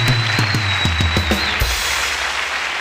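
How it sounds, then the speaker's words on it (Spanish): A studio audience on a Spanish-language talk show claps steadily throughout; a brief musical sting with low thumps plays early on, then the applause carries on alone. "Un aplauso para él."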